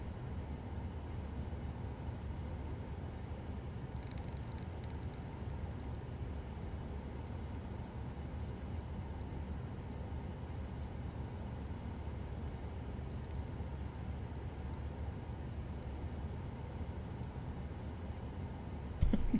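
A steady, low engine roar from an aircraft taking off from runway 32 in Microsoft Flight Simulator 2020, constant and unbroken for nearly twenty seconds with no talking.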